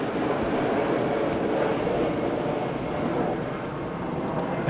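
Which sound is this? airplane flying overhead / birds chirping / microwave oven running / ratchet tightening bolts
airplane flying overhead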